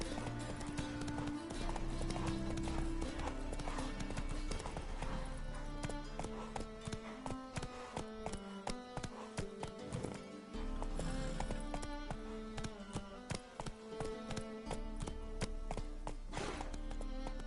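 Hoofbeats of Roach, a horse in The Witcher game, clip-clop steadily as it gallops, loud and continuous over a dense game soundtrack, with a brief neigh possible.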